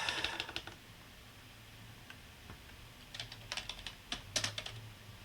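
Bursts of typing on a computer keyboard in a home music-production setup, a quick flurry of clicks, a pause, then more scattered keystrokes with a low hum underneath.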